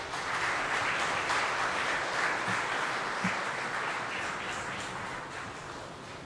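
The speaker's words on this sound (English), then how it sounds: "I request the audience to please welcome our dignitary with a huge round of applause" An audience gives a sustained round of applause to welcome a dignitary at a formal chamber of commerce oration, with dense steady clapping that slowly fades toward the end.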